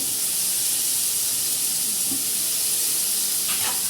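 Soaked vadiyan dropped into hot ghee give off a steady, loud sizzling hiss that holds evenly throughout, close up with no voices.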